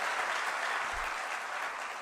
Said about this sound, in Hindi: आप ताली बजा रहे हो